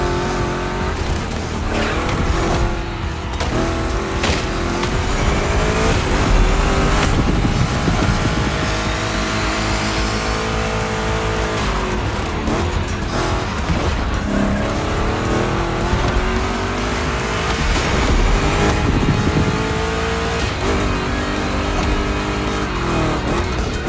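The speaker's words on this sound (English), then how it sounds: "2 Chevys, 2 big blocks, but only 1 winner." Two Chevrolet big-block race cars in The Crew Motorfest rev and roar through a gymkhana course, loud and continuous, with sweeping engine pitch changes and tire squeals.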